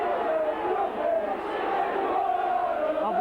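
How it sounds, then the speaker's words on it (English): The Boulevard crowd at a Hull versus St Helens rugby league match voices its disapproval in a sustained roar of jeers and shouts from a large stadium, steady and loud throughout. "Obviously the disapproval of the Boulevard crowd."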